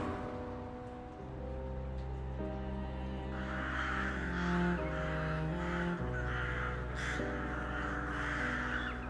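Crows caw over steady atmospheric music in the detective video game The Last Case of John Morley, the calls repeating at a moderate distance and staying clear of the music bed throughout.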